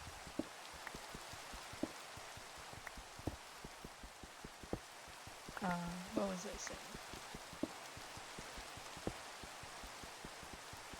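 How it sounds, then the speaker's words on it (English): Rain falls steadily in a Minecraft hardcore survival world: a soft, continuous patter dotted with sharper drip ticks, and a voice briefly speaks midway. "I don't like when it rains in Minecraft."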